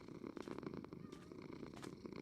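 A cat purring in the Minecraft video game, a steady close rumbling purr that continues without a break for about two seconds.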